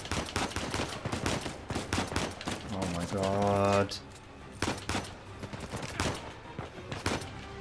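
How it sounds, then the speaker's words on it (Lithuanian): Rapid bursts of gunfire crackle through an Uncharted 4 firefight, sharp repeated shots in quick clusters, with a short musical or tonal swell midway and a player talking over the action. "Tas labai ten smarkiai šaudo"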